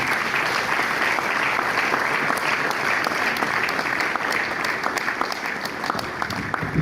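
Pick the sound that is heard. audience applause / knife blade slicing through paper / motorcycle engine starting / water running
audience applause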